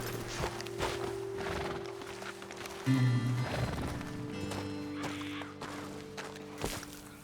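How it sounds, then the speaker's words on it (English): Horses in the Red Dead Redemption 2 video game, with steady clip-clopping hooves on a road and occasional snorts and whinnies, close and moderately loud amid outdoor ambience. "Best leave the horses back a bit"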